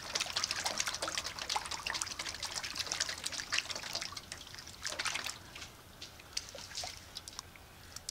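A Gold Claw gold pan swirls through water, giving a constant splashing trickle with rhythmic sloshes, close and steady throughout.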